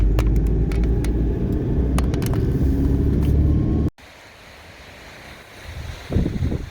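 A 4x4 car on the beach at Sunset Point in Dwarka, Gujarat, rumbles steadily with wind buffeting the microphone, then cuts to quieter wind and surf with a brief louder gust near the end.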